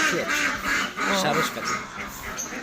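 Ducks quack in a busy market in Gujarat, a few short nasal calls in quick bursts over a steady crowd murmur, with people talking nearby.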